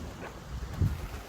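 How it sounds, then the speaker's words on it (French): A heavy squall hits a racing sailboat at sea in a Vendée Globe race, with a loud, gusty roar of wind buffeting the microphone in a short burst. "Énorme grain."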